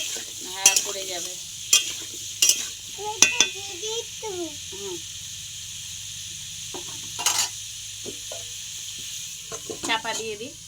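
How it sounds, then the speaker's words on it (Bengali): Potato and papaya sizzle steadily in a pan with turmeric and salt, a constant close frying hiss running throughout, while a person talks intermittently over it and gives an occasional stir. "আমি আলু আর পেঁপেটা ভেজে নেব"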